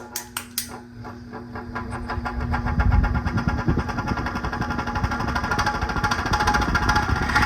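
A vintage Westinghouse Lively Aire oscillating desk fan runs on its low setting with a loud, steady mechanical rattle and a constant hum, after a few sharp clicks from the push-button switch at the start.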